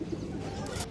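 Pigeons in a fancy-breed collection coo softly in low, rolling murmurs, faint and close, with a brief rustling burst near the end.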